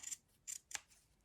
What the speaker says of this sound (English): I'm going to trim out the seam allowance